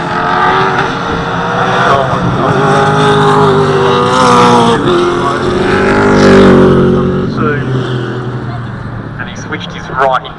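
Race cars lapping the Winton circuit during a Super TT race, engines droning loud and continuous with pitch sweeps as cars pass, under steady commentary talk throughout.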